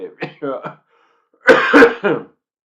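A throat clearing with a rough cough burst, close and loud, following a few brief vocal sounds.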